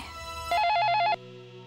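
A telephone bell rings once in a short electronic trill lasting about half a second, loud and close, set against quiet background music.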